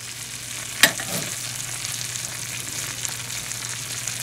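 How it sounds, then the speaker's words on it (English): Hot bratwurst stew with carrots and potatoes stirred in a pot, a steady bubbling simmer with one sharp clink of the utensil against the pot early on, then soft scraping under the constant bubbling. "Just try and give it a stir, see if we can get those brats down in there."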